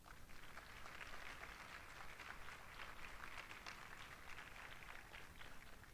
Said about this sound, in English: Our MC for the day, Debbie Kane, deserves a round of applause.